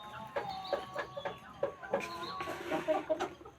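Chickens at a poultry farm, clucking nearby in a series of short repeated calls with a steady rhythm, several birds overlapping, fairly quiet.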